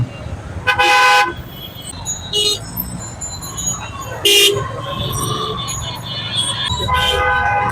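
Car and vehicle horns honk repeatedly in short bursts over the dense, steady roar of a heavy traffic jam, with voices in the background.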